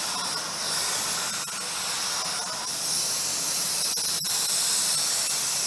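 A spray gun applies Glasurit 90 line paint, producing a loud, continuous close-up hiss that carries on without a break for several seconds.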